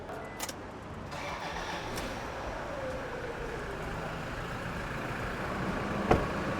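A 2012 Toyota Fortuner 3.0 turbo diesel 4x4 idles steadily at moderate distance, a continuous low diesel rumble with a faint early clatter and a sharp click near the end, no talking.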